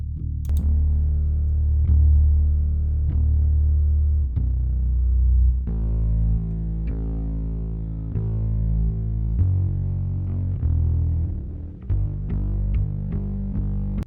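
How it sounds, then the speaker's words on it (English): A distorted electric bass plays a sequence of sustained low notes with a gritty, buzzing tone from distortion plugins, loud and alone without any voices. "This is what the bass sounds like with plugins."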